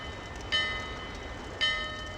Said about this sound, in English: There goes the bell.